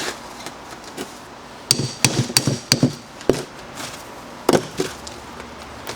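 A chisel bites into a pumpkin-inspired bonsai piece with a run of sharp close taps and knocks, clustered in quick bursts with short gaps between them, and no one speaking.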